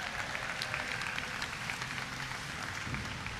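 A crowd gives a round of applause at the opening ceremony of the Kosciuszko Bridge, an outdoor event; the clapping is steady and somewhat distant, fairly quiet with low rumbling underneath.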